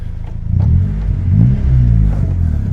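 A boosted Honda Civic engine idles rich with a steady low rumble and slight uneven pulsing, close by, no voices.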